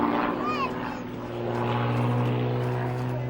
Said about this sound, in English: As the aeroplane spins along its axis.